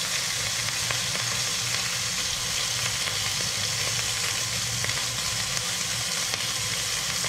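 Fish fillets dry-frying in a pan over the highest heat while a range hood runs at its lowest setting nearby. A steady, loud, close sizzle hisses on without a break, and no one speaks.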